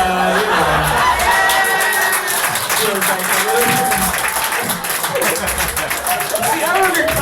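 A comedy club audience claps and cheers, with dense applause, scattered whoops and crowd voices swelling under a performer's speech and laughter.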